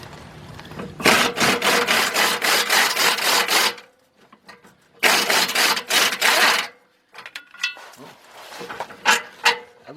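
A ratchet wrench loosens the fuel tank strap bolts under a 1999 Lincoln Navigator, making two long bursts of rapid, close clicking separated by a pause, then a few shorter, scattered ratchet strokes.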